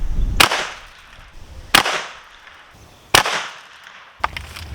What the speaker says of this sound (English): Now it's time for the Winchester SXP 12 gauge.